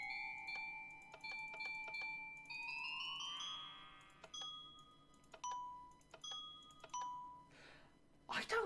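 A bell-like chime from a Minecraft note block placed on compressed ice, struck repeatedly as clear tones in varying pitch, some sustained and some short, ringing with a resonant echo over a faint background hum.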